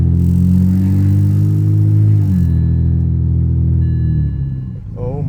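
A BMW E90 325i recovered from flood damage drives on its first outing, its engine giving a steady, loud low rumble that shifts pitch partway through, with a voice speaking over it.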